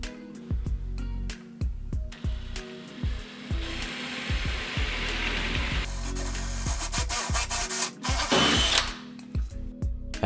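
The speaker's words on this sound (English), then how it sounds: "After drilling that hole in the bottom of the cabinet" A power drill whirs in repeated bursts, biting into the wooden bottom of a cabinet, with scraping and clattering between runs and a longer grinding stretch near the end.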